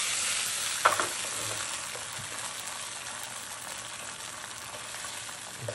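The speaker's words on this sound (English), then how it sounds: "And you're just gonna give that a little stir" A spoon stirs tomato sauce in a warm pan for ricotta gnocchi, giving a steady, close scraping and soft sizzling texture with a few sharper knocks early on, and no talking.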